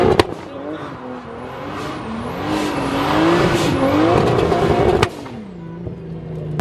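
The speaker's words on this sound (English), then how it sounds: "Adam LZ doing some donuts" A Lamborghini does donuts, its engine revving and wavering in pitch while the tires squeal loudly and continuously, close by, with a sharp bang near the end.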